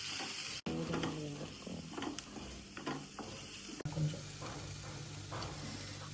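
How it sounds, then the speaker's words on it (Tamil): Onions sautéing in oil in a pan at a house warming, with a steady broadband sizzle and scattered scraping stir clicks from a spatula, close and continuous, broken by two brief dropouts. "ஆனியன் நல்லா வதங்கி வர வரைக்கும் வதக்கிக்கோங்க"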